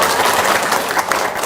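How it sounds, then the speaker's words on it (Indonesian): Audience applause at an Indonesian motivational talk, a steady dense patter of many hands clapping at moderate loudness, continuous throughout without pauses. "Tepuk tangan."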